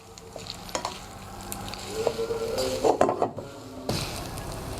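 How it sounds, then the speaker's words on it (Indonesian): Spaghetti aglio e olio is stirred in a frying pan, with soft scraping and clinking strokes over a low, steady oil sizzle, the stirring growing busier in the middle before easing off. "Aduk sampai rata."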